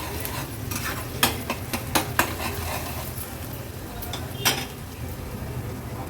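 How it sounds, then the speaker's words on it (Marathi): Onion with ginger-garlic paste fries in a pan under a steady sizzle, with a run of quick spoon scrapes and clinks against the metal, then a gentler hiss. "व्यवस्थित हा कांदा मी शिजवून घेते."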